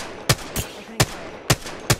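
Gunfire in Apex Legends cracks out in five sharp, evenly spaced shots over a couple of seconds, each loud and close, over a constant low background hum.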